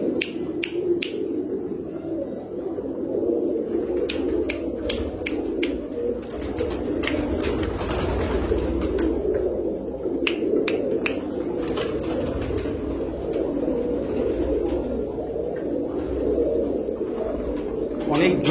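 Pigeons in a large loft, a low continuous chorus of cooing from many birds with scattered wing flaps and sharp clicks, a person talking over them.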